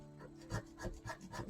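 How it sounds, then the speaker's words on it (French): Scratch card being scraped with a coin: short, rough rasping strokes in a quick uneven rhythm, close and fairly quiet. "Je vais essayer de gratter la carte de Edith."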